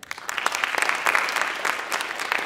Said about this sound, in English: another round of applause for Zach Blazak